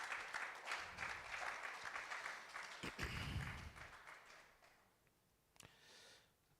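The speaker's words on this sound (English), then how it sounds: "Another round of applause," Audience applause at an ICT conference: a brief round of clapping from a seated crowd, steady for a few seconds, then thinning and fading out with a few stray claps.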